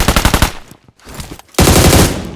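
Automatic weapon fire in the mobile battle royale BGMI, played on an iPhone 13 Pro: a fast loud burst, a short quiet gap with scattered shots, then another sustained burst, heard alone without talk.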